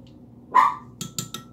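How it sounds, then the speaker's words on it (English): A dog barks somewhere in a house during home soap making, one rising yelp followed by three short, softer barks, fairly near over a low background hum. "If she can't get in to where we are, she will bark."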